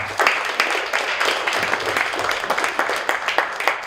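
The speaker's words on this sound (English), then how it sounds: "Let's give them a round of applause again." A crowd at a startup pitch night gives a round of applause, steady mid-level clapping with irregular sharper claps and no talk.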